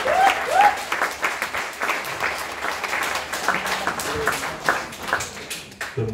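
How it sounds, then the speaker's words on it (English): An audience at a bar applauds a performer with a steady wash of clapping. It is loud and close and lasts the whole stretch, with some crowd voices mixed in. "give me a big round of applause for Master of Space and Time, Nye Parsons"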